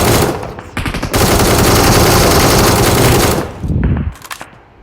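Gunfire in the battle royale game BGMI, a sustained loud automatic burst followed by a couple of short, sharp bursts, close and harsh with no voice over it.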